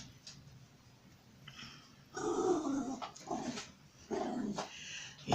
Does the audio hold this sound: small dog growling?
yes